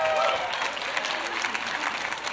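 Audience applause greeting a Vice President of Training Quality at a Dale Carnegie corporate event, a steady crowd of clapping hands heard throughout the short stretch, moderately loud with no talking.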